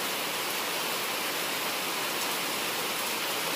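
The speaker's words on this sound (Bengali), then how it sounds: "জোরে বৃষ্টি পড়ছে।" Heavy rain pours down in a steady, dense broadband roar that stays constant and loud throughout, with no voices over it.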